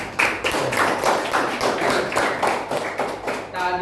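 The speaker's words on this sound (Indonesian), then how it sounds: "tepuk tangan dulu buat kita semua" Students in a classroom lesson clap together in a quick, regular rhythm of about a dozen distinct beats, fairly close and loud, ending with a brief voice.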